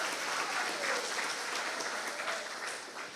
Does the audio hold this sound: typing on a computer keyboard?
no